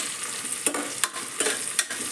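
Masala for chicken biryani sizzling in a pan while being stirred, with a continuous bright fry hiss broken by four sharp scraping strokes of the spoon, close and fairly loud.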